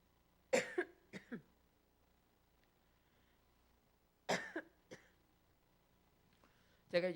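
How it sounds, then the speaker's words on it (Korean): Three separate coughing fits from a man preaching at an online healing service, each a cluster of two or three dry, close coughs, with quiet pauses between the bursts. "이렇게 기침이 나는데 코로나 걸린 건 절대 아니야."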